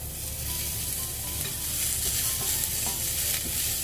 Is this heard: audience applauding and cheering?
no